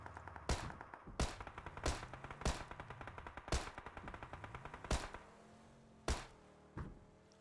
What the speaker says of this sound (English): I'll be shooting every weapon in turn at this wall from a distance of about 15 meters